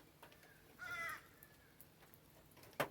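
Crows caw outdoors near a meal of foraged food and oysters, one harsh call rising in the middle and a sharp louder caw at the end over faint background noise.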